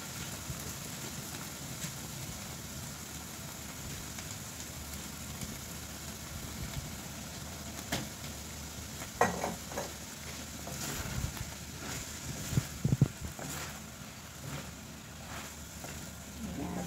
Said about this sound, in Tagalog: Ilagay na natin yung pechay na hiwa-hiwa na siya, guys.